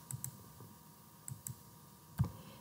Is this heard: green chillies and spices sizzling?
no